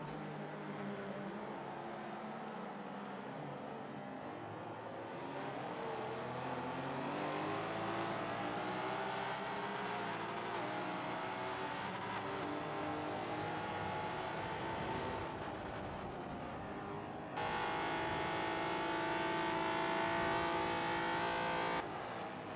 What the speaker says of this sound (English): Tonic is bouncing off that rev limiter